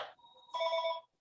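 A telephone rings in a short electronic burst, heard alone and fairly faint in a quiet room.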